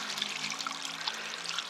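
Water draining from the heater core hoses of a Ford Expedition 4.6 during a coolant flush, a steady close hissing gush of pouring liquid without pause.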